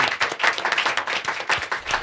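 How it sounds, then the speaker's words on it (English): A podcast audience gives a round of applause, close energetic clapping in quick uneven bursts, with a hint of crowd noise underneath. "Give these guys another big round of applause."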